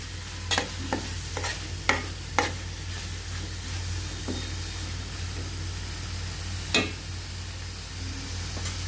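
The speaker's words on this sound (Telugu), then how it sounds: "ఇలా గోల్డెన్ బ్రౌన్ కింద బాగా యాగాలి" Tomatoes frying in a pan and being stirred toward golden brown, with a steady low sizzle under sharp, irregular scrapes and knocks of the spoon against the pan, close and fairly quiet.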